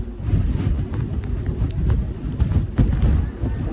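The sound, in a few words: strong dangerous wind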